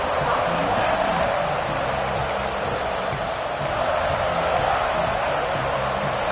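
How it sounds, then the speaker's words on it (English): Big college football stadium crowd during a kickoff return, a steady, loud roar of cheering and noise with no breaks, spread wide across the whole stand. "This crowd ready to make its presence known."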